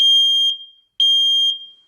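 A loud, piercing smoke alarm sounds in two long shrill beeps, each about half a second of steady tone with a brief gap between.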